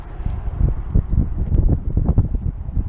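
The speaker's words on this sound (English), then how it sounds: "That wind getting a little stiffer." Wind gusts across a lake during winter crappie fishing on Lake Conroe, producing loud, uneven low rumbling buffets against the microphone with no speech.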